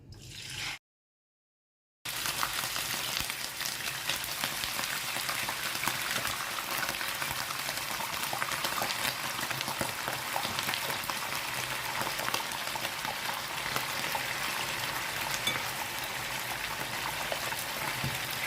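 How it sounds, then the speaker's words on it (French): Meat for Senegalese yassa browning in hot oil, a dense, continuous crackling sizzle like heavy rain after a brief silence, close and steady with no talking. "l'huile est chaude. Donc, on va faire le roussi. Donc, c'est-à-dire qu'on va mettre la viande."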